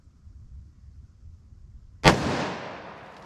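A single sharp, loud gunshot from a snub-nosed .357 Magnum revolver firing Winchester Black Talon 180-grain rounds, cracking after a quiet pause and trailing off in a long, fading echo.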